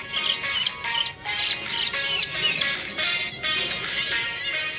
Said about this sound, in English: If you can hear the sound of the bird chirping